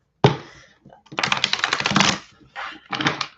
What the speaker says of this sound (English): Cards basically shuffle, but you know I shuffle the whole time.